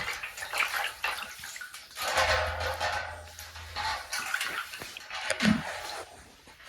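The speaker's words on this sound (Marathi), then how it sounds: "हे असं हलवून घ्यायचं आहे बघा कसं कोमट पाणी गरम आहे" Lukewarm water swirled by hand in a basin gives a close, continuous sloshing with small splashes and drips, steady throughout with no voices.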